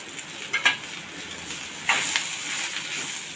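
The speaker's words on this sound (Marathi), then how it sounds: "आधी सुका खोबरा चांगला भाजून घेणार आहोत" Half a cup of grated dry coconut roasting in a pan, producing a soft continuous sizzle and hiss with occasional scraping stirs and clinks of a utensil, close by and with no voices.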